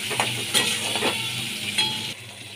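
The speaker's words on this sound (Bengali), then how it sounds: "লাল লাল করে পেঁয়াজগুলো আমি ভেজে নিচ্ছি" Chopped onions sizzle steadily in hot oil in a pan as they brown, with a few stirring scrapes over the constant close frying hiss.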